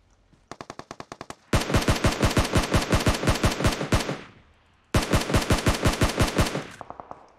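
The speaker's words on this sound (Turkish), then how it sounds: "Başkası sıkıyor adamlara." Automatic rifle fire in the PUBG Mobile game on the Erangel map, with a quieter distant burst followed by two long loud rapid bursts and a faint final volley.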